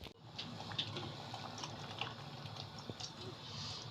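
Water poured into a cooking pot of brown lentils with tomato: a steady, faint splashing trickle runs throughout, with no talking.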